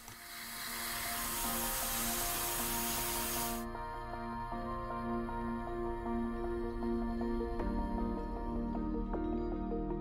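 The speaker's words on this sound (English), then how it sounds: "I spray polished aluminium over much of the engine turning" A spray can applies polished aluminium paint over the engine of a 1/12 scale Italeri Bugatti Type 35B model kit, giving a steady close hiss for several seconds that cuts off abruptly, leaving a quieter tonal background.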